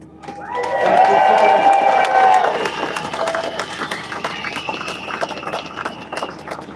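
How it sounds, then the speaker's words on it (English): Crowd at a farmers' protest over inheritance tax claps and cheers, with whistles and shouting swelling early and then thinning into scattered clapping. "another big round of applause for Sally Field."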